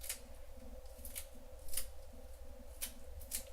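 Fresh chives are sliced with a knife in short crisp snaps, about half a dozen sharp cuts spaced irregularly over a low steady background hum.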